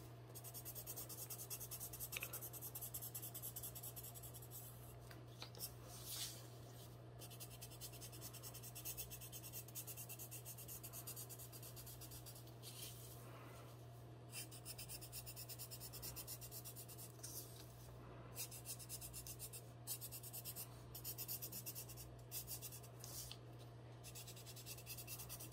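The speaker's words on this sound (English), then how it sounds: "So that I'm just tracing over top of my lines." A pencil traces over lines on paper, making a faint but continuous scratching and rubbing over a low steady hum, with no talking.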